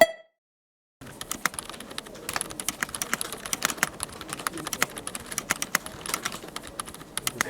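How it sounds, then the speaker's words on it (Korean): Typing on a keyboard fitted with Boba U4 silent tactile switches: a rapid, muffled run of soft keystrokes in an irregular rhythm, heard close and alone after a moment of silence. "보바 U4라고 하는 저소음 텍타일 스위치 쓰고 있습니다"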